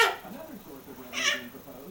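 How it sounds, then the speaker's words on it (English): A house cat meows indoors, a couple of short, high calls rising out of the room sound, with people talking nearby. "There's the cat."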